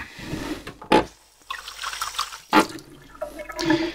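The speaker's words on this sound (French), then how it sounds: "je préfère le faire à l'évier. Comme ça, je rince au fur et à mesure" Water runs and splashes at a kitchen sink while a ceramic sharpening stone is rinsed, with two short loud gushes over a steady trickle and no talking.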